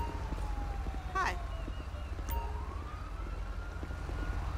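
A siren wails in GTA with the LSPDFR police mod, its pitch sweeping up and down over a steady low engine rumble, fairly near, with radio-style talk in the scene.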